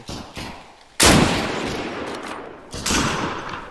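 Close, loud gunshots in the survival shooter game DeadSide: one sharp blast with a long decaying tail, then a second shot, with faint background noise between.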